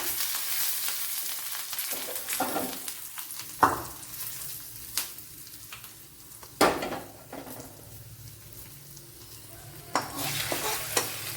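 Mustard seeds temper in hot oil for an okra curry, a steady soft sizzle broken by occasional clinks and scrapes of a spoon against the pan.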